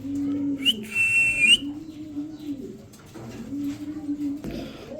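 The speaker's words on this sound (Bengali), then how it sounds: "এখানে দেখতে পাচ্ছেন একজোড়া রোমাগনাল কবুতর" Romagnola pigeons give deep, bubbling coos in several rising and falling phrases, close by, with a sharp whistle breaking in early on.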